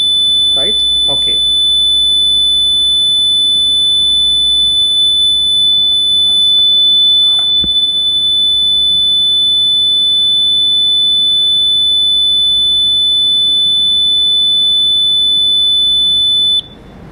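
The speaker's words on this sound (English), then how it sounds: "let's test these buzzers, right?" Electronic buzzers on a science classroom bench sound a steady, piercing high tone that holds unbroken for many seconds, with faint clicks and handling noise beneath before it cuts off.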